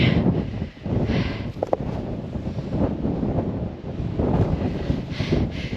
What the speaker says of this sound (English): The wind's getting up.